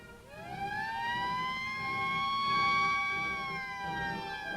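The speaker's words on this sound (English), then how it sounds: "When a simulated alert sounds, everybody knows what they're supposed to do." Simulated alert siren during a Panama Canal defense drill, a rising wail that climbs and holds a loud sustained tone over a low rumbling background, heard alone.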